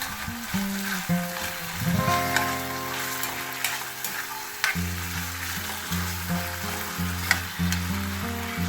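Pork frying in a pan for cheese pork caldereta as tomato sauce goes in, a steady close sizzle with stirring scrapes, under a background of music.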